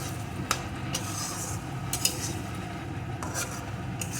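Prawn curry being stirred and mixed in a pan after chopped coriander goes in, with scraping and clinking of a utensil against the pan over a soft low sizzle, several distinct strokes.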